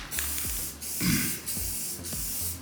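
Spray paint can hissing in several short bursts with brief pauses, close and steady, the trigger released between passes over a piece being painted.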